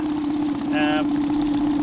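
A Tohatsu 20hp EFI four-stroke outboard motor idles quietly, a steady low hum running evenly through the stretch, with someone talking briefly over it.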